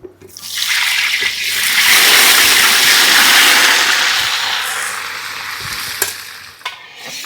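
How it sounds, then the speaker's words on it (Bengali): Loud, close sizzling of potatoes frying in hot oil in a kadai swells quickly and holds as a dense hiss, then eases slightly, with occasional clinks of stirring. "তেল গরম হয়ে গেছে, এবার দিয়ে দেব আলু।"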